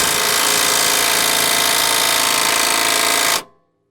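Impact wrench hammering loose an upper control arm bolt on a 4th-gen Toyota 4Runner, one loud continuous rattling burst lasting about three and a half seconds before cutting off abruptly, close up with no talking.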